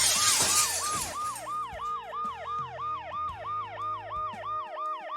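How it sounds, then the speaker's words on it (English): An ambulance siren in the video game Dead Synchronicity wails in a steady repeating rise-and-fall cycle, loud and close. A burst of shattering glass and a low engine hum sit beneath it. "The noise the ambulance makes will cover the sound of the glass breaking."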